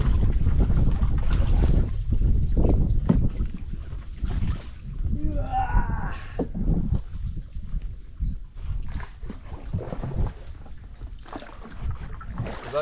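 Steady wind buffets the microphone throughout at a creek during rod-and-reel fishing, a low rumbling roar with some faint voices in the background.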